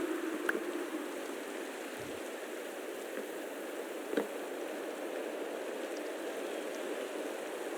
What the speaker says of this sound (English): It's raining, it's dark out.